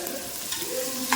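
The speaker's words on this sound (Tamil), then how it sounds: "வெங்காயத்தை முதல்ல நல்லா வதக்குவோம்" Chopped onions sautéing and being stirred in a pan for a Tamil goat intestine curry, a steady soft sizzle with light scraping, close and alone without talk.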